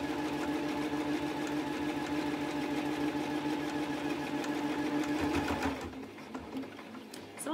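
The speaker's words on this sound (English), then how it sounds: "I'm literally just lining up my machine with the pin and sewing again all the way up" A sewing machine stitches a mug caddy pocket, running steadily and loudly throughout before slowing and easing off near the end.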